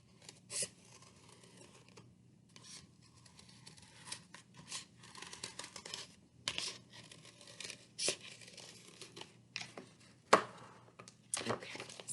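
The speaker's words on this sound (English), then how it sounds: "use your scissors, take the pointed end, and sort of create a hole in the center of your little circle" Scissors snip and pierce a paper dog mask close up, quiet crisp cuts and crinkles coming in irregular bursts with short pauses between, with no talk.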